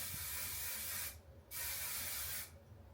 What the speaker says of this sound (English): let's go ahead and spray